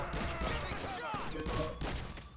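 Rapid bursts of gunfire in GTA Online during a heist, loud and continuous across the moment, with a voice briefly talking over the shooting.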